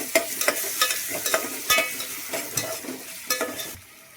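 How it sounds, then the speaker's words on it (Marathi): Tomato stirred into frying onions in a pan for chicken biryani, with rhythmic scraping and clattering stirs over a steady sizzle, close and fairly loud, with no voices. "टोमॅटो घालून झाल्यानंतर मस्त मिक्स करून घेऊया."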